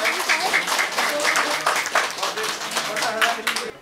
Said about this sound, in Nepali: जोरदार ताली सहित सम्मान